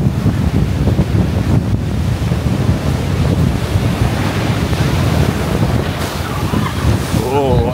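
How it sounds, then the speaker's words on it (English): Rough sea surf churning and crashing against the Blackpool seafront in Storm Ashley, a loud continuous roar of waves mixed with heavy wind buffeting the microphone throughout. "bring you up close images of this spectacular rough sea"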